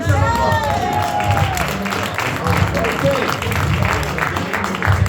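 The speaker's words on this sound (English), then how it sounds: "That's round of applause." A congregation breaks into a round of applause at a church service, loud clapping and cheering mixed with lively crowd chatter and a voice speaking over it, continuing unevenly across the moment.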